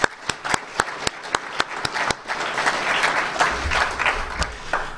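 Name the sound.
audience applause for Healthy for Life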